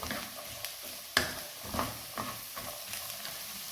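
Carrots stirred into fried rice in a pan over a high flame, giving soft scraping stir strokes and a light sizzle with a few sharper utensil knocks against the pan, close up and fairly quiet.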